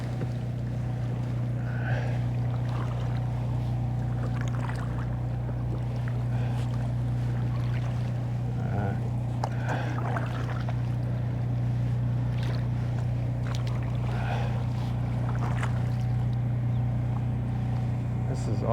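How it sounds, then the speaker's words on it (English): A steady low engine hum from a tugboat on the Arthur Kill runs throughout under outdoor wind noise and faint distant voices, continuous and unchanging. "that tug sounds like it's running,"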